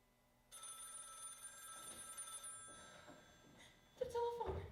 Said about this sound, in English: The telephone ringing on a holiday?